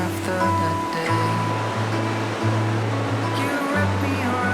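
Ocean waves surging against rocks along the Sydney coast, a steady close wash of surf layered with music playing throughout.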